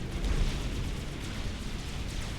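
An overcharge weapon blast in a real-time strategy battle near point defenses and Cerberus turrets: a deep, booming explosion with a rolling low rumble that lingers for a couple of seconds.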